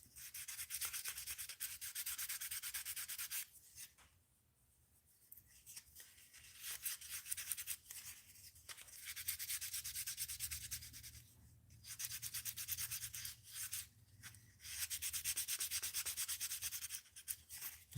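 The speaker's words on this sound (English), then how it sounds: "I'm just getting the edges sanded nice and smooth" Steady abrasive sanding on the edges of a handmade fishing lure, a close, continuous scratchy rasp in repeated strokes, broken by a few short pauses, with no voices.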